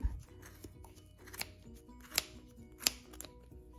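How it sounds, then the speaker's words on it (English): Scissors snip yarn wound on a plastic pom pom maker, a few sharp, close cuts spaced about a second apart over quiet handling noise. "you're going to start cutting on top"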